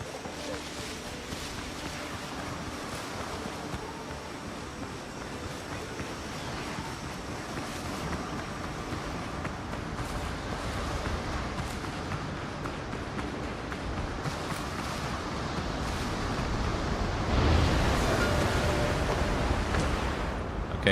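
A sailing ship in the pirate game Windrose moving across ocean waves, with steady washing surf and rushing wind that swell gradually louder toward the end, a voice speaking over it.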